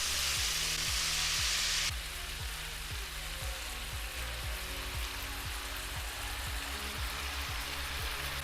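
Chicken and potatoes sizzle steadily in a skillet with barbecue sauce, a constant close frying hiss. It starts brighter for the first two seconds, then settles into a softer, even crackle. A low, regular thumping runs underneath.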